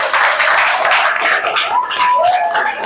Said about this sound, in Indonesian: kita tepuk tangan untuk semuanya sudah mengikuti pembelajaran dengan baik.